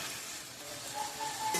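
Crab curry masala sautéing over low gas in a pan, a soft continuous sizzle and hiss, close but fairly quiet, with a faint scrape near the end and no voices.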